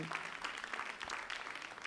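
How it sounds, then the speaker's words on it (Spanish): Children at a talk by author Paula Carballeira receive a short burst of applause, faint scattered clapping from a small group that is audible for about two seconds. "un aplauso para vosotros y vosotras que lo habéis hecho muy bien"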